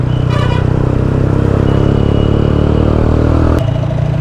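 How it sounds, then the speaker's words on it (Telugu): A TVS Apache RTR motorcycle fitted with an aftermarket dual exhaust and light tuning rumbles loudly and continuously up close, a deep throbbing engine note that drops abruptly near the end. "ఆఫ్టర్ ఎగ్జాస్ట్ ఇన్స్టాల్ చేశాక కొంచెం చిన్న ట్యూనింగ్స్ చేసుకున్నాక చాలా రెస్పాన్సివ్ ఉంది బైక్."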